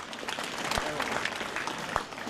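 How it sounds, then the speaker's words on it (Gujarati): An audience claps at a student award ceremony, a dense, fairly soft patter of many hands that carries on throughout, with a couple of sharper knocks standing out. "એટલે આપણે તાળીથી વધાવીએ."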